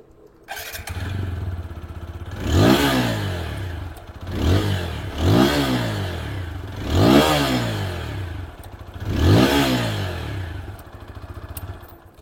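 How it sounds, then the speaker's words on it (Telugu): A 2025 TVS Apache RTR 160 4V motorcycle at standstill, its single-cylinder engine started and then blipped four times in even spaced revs, each rising sharply through the exhaust and falling back to a burbling idle, heard up close. "ఎగ్జాస్ట్ నోట్ వినండి."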